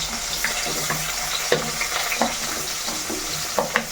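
Onions fry in hot oil with mustard and cumin seeds over a medium flame, a steady close sizzle broken by scraping stirs and occasional sharp crackles.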